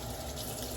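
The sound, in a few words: washing something under running tap water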